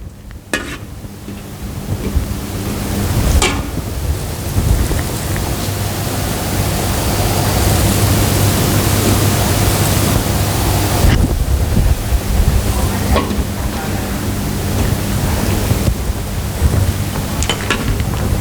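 Shallots fry in hot oil for pad thai, a dense, continuous crackling sizzle that holds close and loud throughout, with a few sharp clatters of a utensil against the pan.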